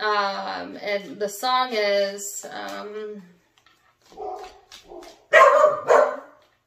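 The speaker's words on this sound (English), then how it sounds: "that's my dog" A dog barks a few times close by, short sharp yelps following a person speaking and humming.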